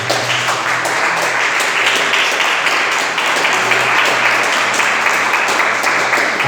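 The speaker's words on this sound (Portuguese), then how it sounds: "Você assenta, desocupa as tuas mãos e aplauda os céus bem forte." A church congregation claps loudly and continuously, a thick, sustained roar of applause filling the space with no break, close and strong.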